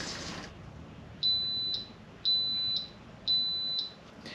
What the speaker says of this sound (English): So it does like 6 or 8 beeps